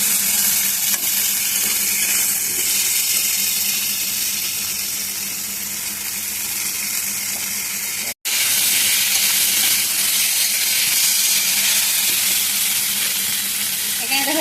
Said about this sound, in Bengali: ভালো করে নাড়াচাড়া করে নেবো নিচে যাতে পুরো না লাগে